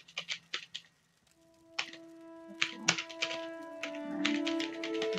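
Keys on a computer keyboard tapped in short bursts of quick clicks, with a pause and then denser, steadier typing alongside a faint electronic tone, close and fairly quiet.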